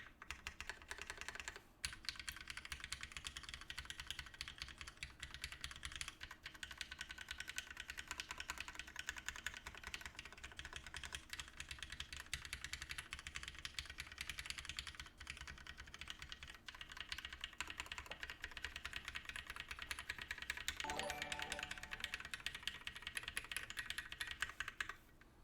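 Steady mechanical keyboard typing on a Hiney TKL One prototype, raw and unbroken-in switches, a fast continuous clatter of keystrokes recorded from a distance.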